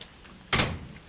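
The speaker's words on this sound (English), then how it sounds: "Monsieur, I shall have to ask you to open the door." An old 1930s film soundtrack carries a door being opened, a single short burst of noise midway through quiet background hiss.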